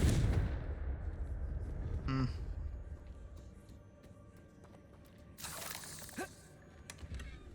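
A Confringo fire spell blasts in the Hogwarts Legacy video game: a booming burst at the start and a second crackling blast near the end, set against low rumbling game ambience.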